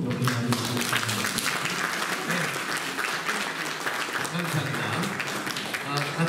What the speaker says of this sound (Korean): 큰 박수로 여러분 많이 주셨습니다